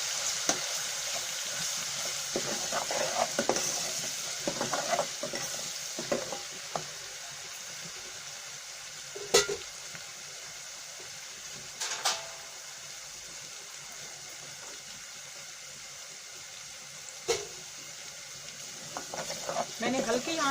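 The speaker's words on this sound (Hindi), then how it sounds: "अब लहसुन को भी थोड़ी देर भून लूंगी।" Cumin and garlic frying over low heat in a pan for a capsicum and potato curry, a steady close sizzle with occasional sharp spatula scrapes and stirring clicks throughout.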